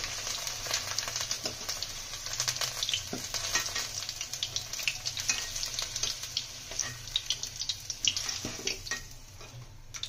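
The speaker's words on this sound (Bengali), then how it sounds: "এই তেলে আলুগুলো ভেজে নিচ্ছি" Steady crackling sizzle of potatoes frying in oil, with occasional stirring scrapes and pops throughout.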